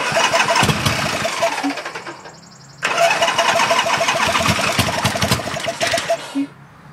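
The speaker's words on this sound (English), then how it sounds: "I'll get up here and press the start button." A 1980 Harley Sportster motorcycle engine cranks on the starter and catches, rumbles briefly, dies away, then is started again and runs in a loud, close, rough rumble before cutting off.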